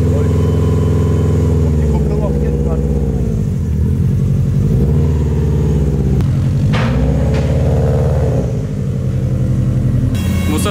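A turbocharged Subaru Impreza with a Chinese-made turbo runs on a dynamometer, its engine droning loud and steady while revs rise and fall repeatedly, with a sharp whoosh or pop near the end.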